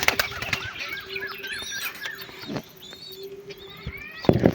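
Lalmohan pigeons flap their wings inside a loft in a series of short, irregular bursts, moderately close, with faint chirps and rustling between them.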